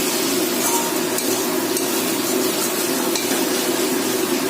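Bombay duck fish and potato pieces fry in a pan while being stirred, giving a steady close sizzle broken by scattered soft scrapes and taps of the utensil, with no talking.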